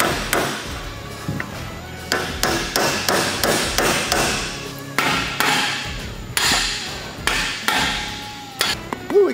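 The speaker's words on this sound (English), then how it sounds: "I'm gonna put this on the floor and whack on it with a dead blow hammer" A dead blow hammer pounds repeatedly on a Ford TTB truck suspension part set on a shop floor, giving a steady run of loud, close, heavy thuds, roughly two per second, with no talking.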